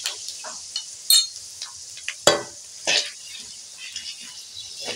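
Spices, a dried chili and a little sugar tempering in hot oil, giving a steady high sizzle with a few sharper crackles and stirring scrapes, close and alone.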